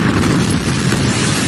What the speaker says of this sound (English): A huge blast in the center of Ukraine's second largest city.